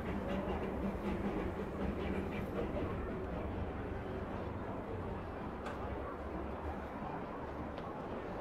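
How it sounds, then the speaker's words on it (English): A Disneyland train chugs past, its faint rolling rumble and clatter steady for about eight seconds under a distant murmur of park crowd voices. "Oh, train's coming through. Chugging along."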